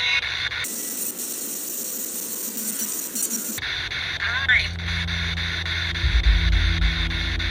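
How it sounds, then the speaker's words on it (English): A spirit box radio used during a forest ghost hunt sweeps through stations, producing a burst of hissing white static, then choppy scanning noise and tonal blips, with people talking over it. "we're gonna try the spirit box. See if we hear anything"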